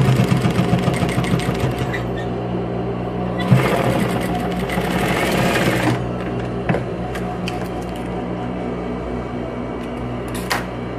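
A sewing machine stitching a seam on bag lining, its motor whirring with fast rhythmic needle clatter in bursts, a louder buzzing stretch midway, then quieter handling and light clicks.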